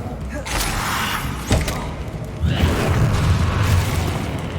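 Spell impacts in Hogwarts Legacy thud and burst in a quick series: a sharp hit, another crack at about a second and a half, then a heavier rumbling boom that carries on to the end, with brief voices mixed in.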